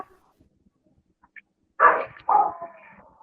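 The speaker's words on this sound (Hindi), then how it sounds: "बाहर कुत्ता भौंक रहा है" A dog barks outside, two short loud barks close together after a quiet stretch, with a faint yip before them; no talking.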